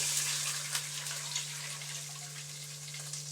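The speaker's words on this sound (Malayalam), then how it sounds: "ഞാൻ അതിലേക്ക് വെള്ളം ഒഴിച്ചു കൊടുക്കുകയാണ്" Water pours steadily into a cooking pot for chicken biryani, a continuous close splashing gush with a low steady hum underneath and no talking.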